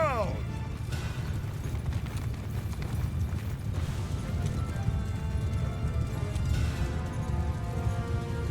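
Cavalry horses ride through a battle in the video game Mount & Blade II Bannerlord, a dense rolling clatter of hooves under a constant roar of battle noise, with a player talking over it.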